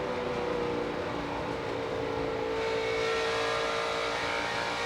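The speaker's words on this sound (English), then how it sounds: "these trucks are struggling a little bit right now trying to get around the racetrack" NASCAR trucks racing around the Fontana racetrack, a continuous engine roar with steady high whine, heard through a broadcast feed without talk.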